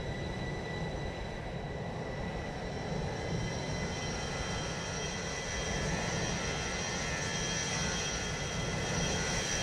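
An airliner takes off in Flight Simulator 2020 at Cardiff, a steady, faint jet engine roar with a high whine, continuous and slowly building, with no talking.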